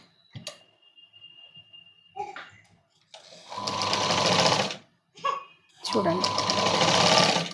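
A sewing machine stitches a princess cut blouse in two loud bursts of whirring, with a short pause between them. Before and between the bursts a person speaks briefly.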